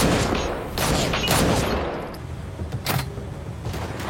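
Gunfire in a tense film confrontation, a few sharp shots bursting out in the first half, then a lull before another brief crack near the end, loud and reverberant over a dense background.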